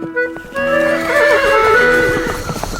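A horse neighs in a radio drama set in a jungle, one long, loud, wavering whinny that rises and trembles over background noise, close and with no talking.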